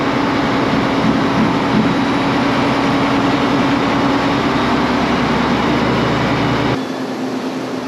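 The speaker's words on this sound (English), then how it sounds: "we turned it on when it was like almost all the way lifted out" Pump running down in a pit with hoses still attached, a loud, steady mechanical drone with a strong low hum throughout, the deepest rumble dropping away near the end.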